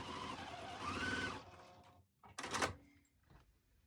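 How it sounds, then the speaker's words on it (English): A sewing machine stitches quilt block pieces, a quiet rapid whir for over a second, then a pause, followed by a shorter burst of stitching and soft handling noise. "I'll go ahead and sew that now"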